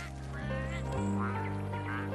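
A duck quacks in a short series of nasal calls, fairly close, over a steady low hum in the background.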